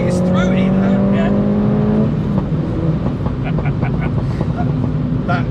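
A 270 BHP MINI JCW Roadster with a Lohen B-road setup revs hard and loud at first, then its exhaust crackles and pops in rapid bursts while voices talk over it.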